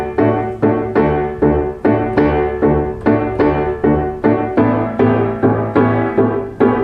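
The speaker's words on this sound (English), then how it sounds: "one of the interesting rhythms that seem to have really come through in all these places, which has been traced back to apparently the West African regions, is a kind of cross rhythm" Solo piano plays a West African-derived cross rhythm, bright repeated chords struck in a steady syncopated pattern, close and loud with no talking.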